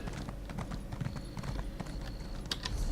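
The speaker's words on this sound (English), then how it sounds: "Good old horse riding simulator that is Elder Scrolls Online." A horse in the Elder Scrolls Online video game gallops with rapid, rhythmic hoofbeats, close and steady over a low ambient hum, with no one talking.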